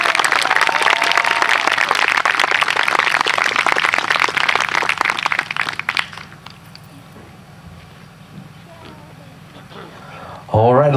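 Loud crowd applause and cheering at a high school class of 2020 graduation ceremony fills the first six seconds, then fades to scattered claps before a voice speaks at the end.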